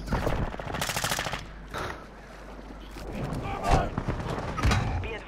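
Bursts of rapid gunfire crackle in a shooter video game, with a dense stretch of shots early on and scattered thumps and shots afterward. A player's voice talks over parts of it.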